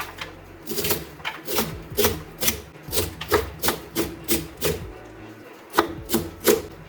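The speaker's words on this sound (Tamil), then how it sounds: "எவ்வளோ பொடியாக வெட்ட முடியுமோ அந்த அளவுக்கு பொடியாக வெட்டிக்கோங்க" Pirandai (veld grape) stems are finely chopped with a knife on a board, about a dozen firm, evenly paced thuds repeating close by for several seconds.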